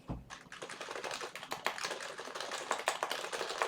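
Someone types on a computer keyboard, picked up by a webcam microphone: a rapid, close, uneven clatter of keystrokes that keeps going throughout with no voices.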